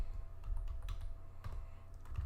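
Fingers tap on a computer keyboard during HTML coding, a quick run of soft, close keystrokes with a few louder clicks, no voice present.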